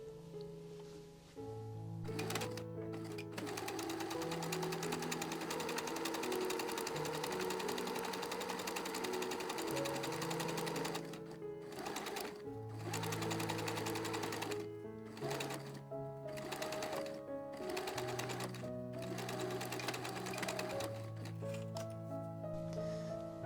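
A sewing machine runs in repeated bursts, stitching the pocket seams of a circle skirt, its close, steady stitching rattle stopping and starting over a sustained musical backdrop.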